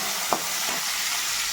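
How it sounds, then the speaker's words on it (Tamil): Onion and garlic sauté in a pan with tomatoes newly added, giving a steady close hiss of sizzling oil broken by one brief utensil tap as the mix is stirred. "வெங்காயம் பூண்டு நல்லா வதங்கிருச்சு. இப்போ நம்ம தக்காளி சேர்த்துக்கலாம்."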